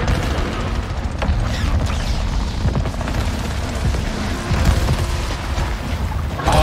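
Dense, continuous rumbling booms and bursts as enemies explode in the PS5 game Returnal, layered with gunfire-like crackle, loud and sustained throughout.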